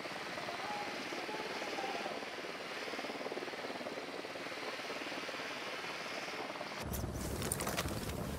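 A helicopter in the video game Ghost Recon Wildlands drones steadily with a dense, continuous rotor roar that shifts abruptly near the end.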